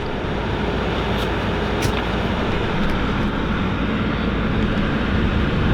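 A car engine revs as the throttle is blipped during a radiator and cabin heater flush, producing a continuous loud roar with slight swells that holds steady across the whole stretch without talk.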